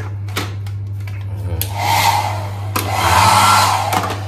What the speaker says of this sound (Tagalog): May dryer.